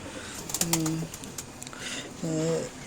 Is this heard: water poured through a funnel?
no